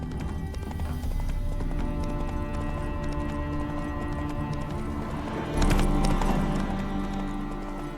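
Roach, a horse in The Witcher 3 video game, trots with steady clip-clop hoofbeats and an agitated snort amid dense game ambience, with a louder burst of movement partway through and no talking.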